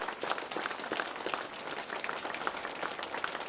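Mourners applaud at a farewell ceremony for a Ukrainian opera singer and patriot, a dense, continuous patter of many hands clapping close by without a break.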